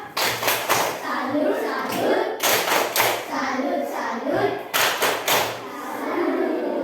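Third-grade schoolchildren in a classroom perform a rhythmic clapping chant, bursts of sharp claps in patterned groups alternating with their chanting voices, loud and close.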